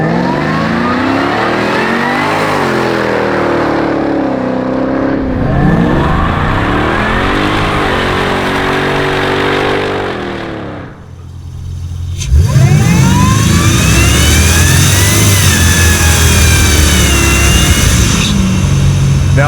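A supercharged 1964 Pontiac Bonneville roars through a sustained burnout, its engine revving loud and close in long rising and falling sweeps, dropping briefly before a fresh, harder run.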